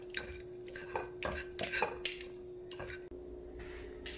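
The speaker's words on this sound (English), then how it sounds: "we're just going to start shredding it" Cooked chicken from an Instant Pot is shredded with utensils, giving a run of light scraping clicks and soft squishy taps against a pot, fairly quiet and irregular over a steady low hum.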